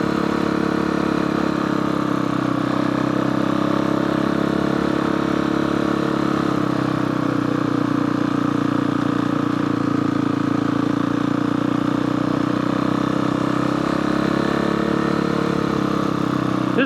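A motorcycle ridden up Farmington Canyon, a steady mid-pitched engine drone heard from the rider's position, continuous and fairly loud with mild wind noise and no talk.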